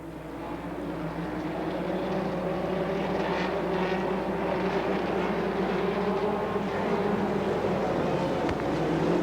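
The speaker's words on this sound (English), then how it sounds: "We've got the 3/4 midgets ready to come out of the track for 3 heat races." Several 3/4 midget race cars roll out onto an oval track before heat races at the CNE in 1990, a loud, steady, continuous engine drone with overlapping motor tones and no talk.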